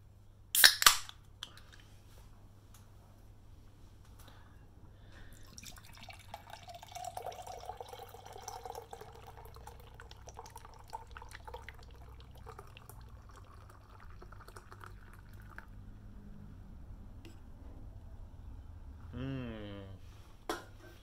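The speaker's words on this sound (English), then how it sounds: "Being a nitro, we want to pour this as quick as we can." A can of cappuccino nitro stout cracks open with a sharp hiss, then the beer is poured quickly, giving a long, soft, steady foaming rush, followed by a short rising sound near the end.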